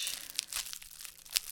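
Bubble wrap packaging around shades being handled, giving soft, close crinkling and rustling with a few sharper crackles, no talking.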